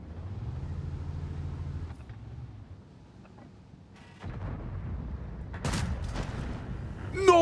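A tank's secondary gun firing in World of Tanks, heard as a short run of sharp shots near the end after a low engine rumble and a quieter gap.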